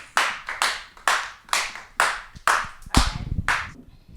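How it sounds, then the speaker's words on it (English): Audience applause at a live dating game show, sounding as repeated bursts of clapping about every half second, each swelling and fading, with a louder, denser burst near the end. "Give her a round of applause,"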